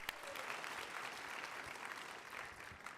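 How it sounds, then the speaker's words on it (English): Faint, steady audience applause at a tech startup competition, an even wash of clapping heard at a distance for three seconds without letup. "let's have one more round of applause for Nephrogen"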